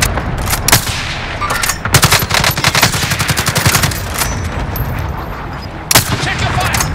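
Rapid automatic gunfire in Call of Duty: Modern Warfare, bursts of fast, sharp shots close and loud, with single heavier cracks near the start and end, and brief talk mixed in.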